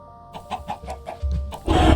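A series of quick, clipped clucks from chickens in Minecraft, about six evenly spaced calls, clear and close, followed by a louder rustling burst at the end.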